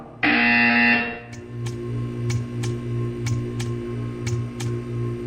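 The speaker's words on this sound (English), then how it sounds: "You will hear a buzzer." A flat electronic buzzer in the video game Portal 2 sounds for about a second. A steady low hum and faint regular ticks follow it.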